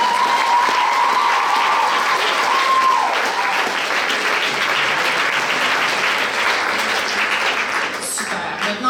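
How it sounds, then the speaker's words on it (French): An audience at a regional science fair final applauds a gold medal winner, a dense, steady wash of clapping that lasts the whole stretch, with a brief tone near the start. "Alors, on applaudit notre médaille d'or."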